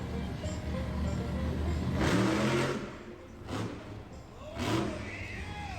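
A monster truck engine revs at an indoor monster truck show, with three loud roaring bursts that swell and fall away amid steady crowd and arena noise.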